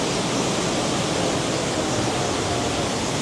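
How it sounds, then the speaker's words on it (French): Continuous bubbling, rushing water noise from a churning spa tub, steady and close, filling the whole clip without any voices. "Là, c'est le côté jacuzzi."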